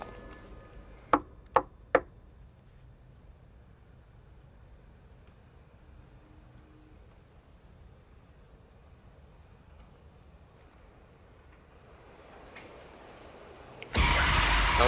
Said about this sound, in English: That was a late knock.